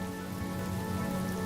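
Steady rain falls on a surface as a dense, even hiss of drops, loud and unbroken for the whole stretch with no voices.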